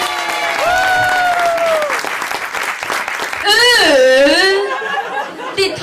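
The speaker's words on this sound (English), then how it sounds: "Let's build up the applause." A comedy audience applauds and cheers as comedian Finlay Christie comes on stage, loud clapping with laughter and whoops under a host's voice and rising, swooping shouts.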